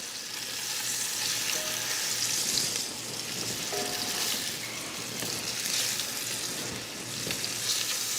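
Flour-dusted turkey meat frying in a pan, a steady bright sizzle with faint stirring scrapes and a brief clink, continuous and fairly close with no talking.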